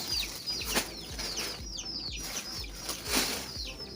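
Chickens clucking and calling at a feed container, a busy cluster of short chirpy calls with occasional louder squawks and some wing flapping, no talk.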